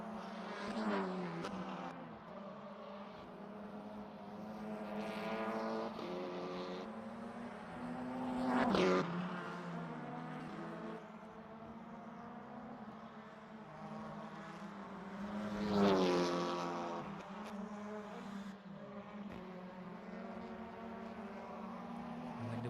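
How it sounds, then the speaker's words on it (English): Race car engines in the rFactor 2 racing game, BTCC cars at Toban Raceway, rise and fall in pitch as they rev and shift, with two louder passes swelling and fading, heard alone at moderate volume. "Hear the noises of the engine."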